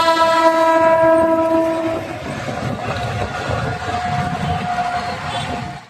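A train passes in Thane, its horn blaring loud and sustained for about two seconds, then a steady rumble and clatter of wagons continues close by, with a fainter horn returning near the end.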